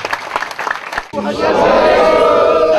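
A church gathering audience at a Jayapura revival meeting breaks into sustained applause and crowd noise after a short stretch of speech, the clapping loud and continuous to the end.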